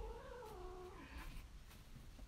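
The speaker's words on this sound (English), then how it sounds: "Both the cats are in here." A house cat gives a low, drawn-out wavering caterwaul, fairly faint against steady background noise, with no one talking.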